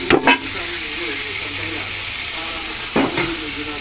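Marinated pork for hamonado fries in hot oil in a pot, a constant steady frying hiss at the front of the sound with a couple of sharp pops and clatters at the start and near the end.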